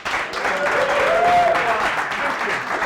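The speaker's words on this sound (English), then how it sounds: "please give a round of applause for one of the leading black comedians in the country, Mr. Curtis Walker." An audience applauds a comedian at a live talk-show style comedy event: dense, sustained clapping at a steady loud level throughout, with a faint tonal whistle or cheer rising in the middle.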